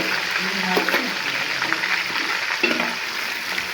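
Onions frying in a pan, a steady sizzle with stirring scrapes running throughout, close and moderately loud, with brief spoken interjections over it.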